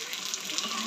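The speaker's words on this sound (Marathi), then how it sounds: "आता येते ऑटोमॅटिक पाणी." Water gushes steadily from a coin-operated public water dispenser that runs on a 5-rupee coin, a close, continuous splashing stream lasting under a second.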